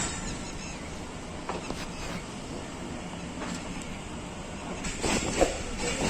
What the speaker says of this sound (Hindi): 10 डाउन अल्लामा इकबाल एक्सप्रेस सियालकोट जंक्शन से रवाना हो रही है।